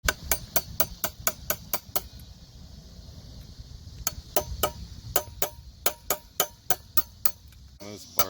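Repeated sharp metallic strikes of a hammer on a screwdriver, used to crack off an LS water pump hose barb. Clusters of hits come in quick rhythmic runs with a short pause midway, over low background noise and occasional talk.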